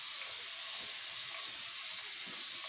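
Shaving product sprayed from a can, a steady close hiss that continues unbroken without pause.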